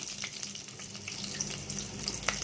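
Cumin seeds and garlic splutter in hot oil while cooking a raw banana and potato fry: a steady close sizzle with scattered sharp pops and crackles throughout, no voices.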